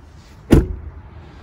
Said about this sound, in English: The door shuts really nicely.